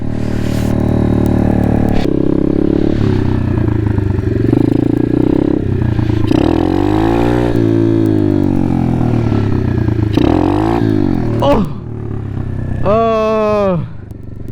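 A pit bike ridden through city streets, its small engine buzzing loud and close throughout and rising and falling in pitch as the rider revs, with a louder rev near the end, and a voice speaking over it.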